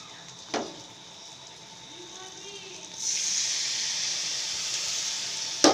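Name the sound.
water added to spices in a hot pan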